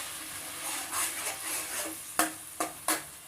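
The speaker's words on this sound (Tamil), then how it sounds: "எண்ணெயிலே போட்டு பச்சை வாசனை போகிற அளவுக்கு நல்லா வதக்கி விடுங்க" Ground ginger, garlic and shallots sauté in hot oil with a steady soft sizzle as a spoon stirs them, and three sharp scrapes of the spoon against the pan near the end, with no talking.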